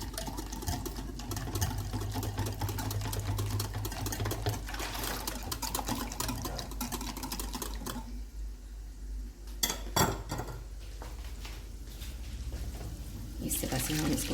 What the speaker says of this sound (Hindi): इसमें मैं थोड़ा सा पानी डाल के इसको अच्छी तरह से मिक्स करूँगी